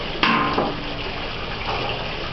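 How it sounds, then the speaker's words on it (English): Water poured from a watering can into a newly planted hanging basket, a steady close splashing flow with a couple of brief louder gushes near the start, no talking. "we'll take and get our watering can and water"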